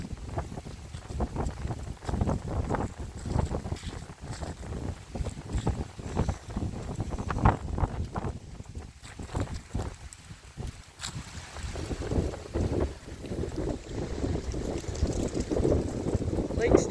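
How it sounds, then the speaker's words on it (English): Steady wind by West Okoboji Lake, Iowa, buffeting the microphone outdoors, a low rumbling roar with gusts throughout. "It's windy down there, and it's cool by the lake here."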